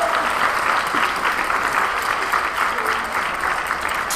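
An audience at a Mexican gastronomy forum applauds chef Jorge Vallejo of Quintonil, steady dense clapping filling the room for several seconds without a break.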